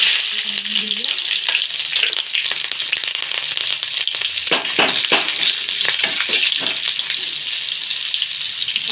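Garlic and cumin fry loudly in hot oil in a pan for a green chickpea usal, a dense, steady sizzle with a few sharper crackles and stirring scrapes midway.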